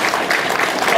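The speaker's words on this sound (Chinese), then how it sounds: "让我们给他掌声鼓励，谢谢。" Audience clapping for a guest speaker at a corporate mobile-business presentation, steady dense applause filling the whole brief moment with no break.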